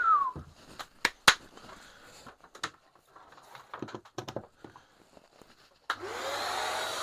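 A Parkside Performance 12V orbital sander starts up with dust extraction connected, giving a steady loud whir near the end that follows scattered clicks and handling knocks.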